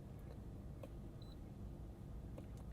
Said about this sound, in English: Makes a kind of an irritating beep every time it does that.